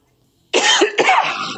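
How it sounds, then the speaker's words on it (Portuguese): A single harsh cough close to the mic, breaking into a second rough burst, after a brief silence. "Eu acho que é uma tosse de ansiedade."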